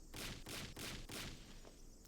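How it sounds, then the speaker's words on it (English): Four heavy bangs strike a door in the visual novel Higurashi When They Cry, evenly spaced, booming and broadband, with a lingering rumble after the last hit and no voices. "Shion banged on the door."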